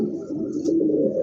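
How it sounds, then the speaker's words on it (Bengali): A pair of Spot Shallow pigeons cooing, a low, soft, continuous throaty coo close by with no talking. "খুবই চমৎকার একজোড়া কবুতর"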